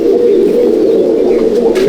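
An Andhra pigeon held in the hand coos close up, giving a continuous, loud, throaty drone throughout.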